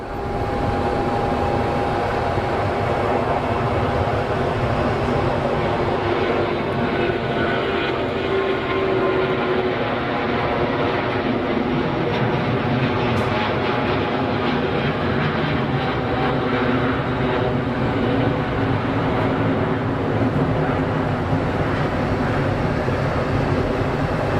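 A fixed-wing airliner taking off from runway 22 at Geneva Airport, its engines a loud, sustained roar that holds steady across the whole stretch, heard from nearby with no voices over it.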